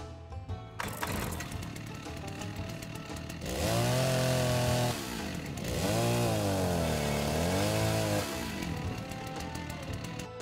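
Chainsaw in the survival game Rust starting up and revving loudly, with two long roaring bursts that rise and fall in pitch between rougher idling, close and dominant.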